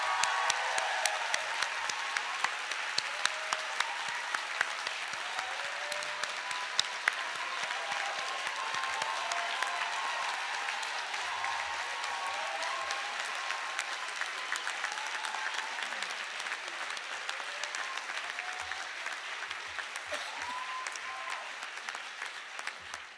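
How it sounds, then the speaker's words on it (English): Audience at the 2011 Hampshire College commencement ceremony gives a long, steady round of applause, dense crowd clapping at an even level throughout with faint voices mixed in. "So let's give them a round of applause."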